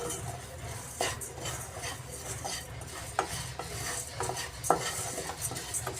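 Coriander, cumin and fenugreek seeds dry-frying in a pan over a low flame, heard as soft continuous scraping and stirring with occasional light clicks of a utensil against the pan, close and unaccompanied by speech.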